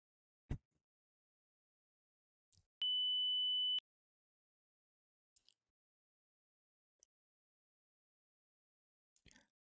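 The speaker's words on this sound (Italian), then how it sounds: "sotto sotto si è sentito un beep, quindi hai sentito il suono beep" A single steady electronic beep tone from a PC audio diagnostic test lasts about a second, surrounded by near silence and a few faint soft clicks.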